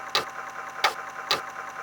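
A Commodore 64 disk drive saves a program, giving three sharp, evenly spaced mechanical clicks over a quiet background hum, with no one speaking.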